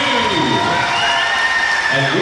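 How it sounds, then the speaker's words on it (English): An audience at the Saugeen Shores Battle of the Blades 2018 skating event gives steady, dense applause with some cheering, while an announcer speaks over it. "Give another nice round of applause to Abby and Anderson"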